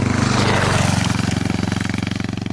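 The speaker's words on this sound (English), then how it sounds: "Very distinctive noise that bike's got, isn't it?" A motorbike engine runs close and loud, a steady rapid thumping pulse that throbs evenly throughout, with no voices.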